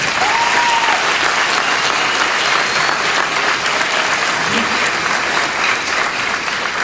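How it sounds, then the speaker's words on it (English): A large crowd claps loudly and continuously at a 2016 Palomares Academy of Health Sciences commencement ceremony, with a faint murmur of voices beneath the steady roar. "Let's give a round of applause to all our family and friends who have supported us and pushed us to getting where we are today."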